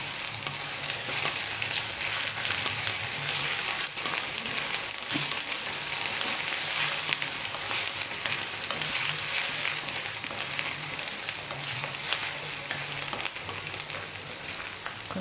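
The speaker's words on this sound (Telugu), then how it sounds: "కొంచెం వేసేస్తున్నాను అల్లం వెల్లుల్లి పేస్ట్" Ginger garlic paste fries in a hot pan with a loud, steady sizzle, broken by occasional scraping from stirring, and it continues without a break and without any voices.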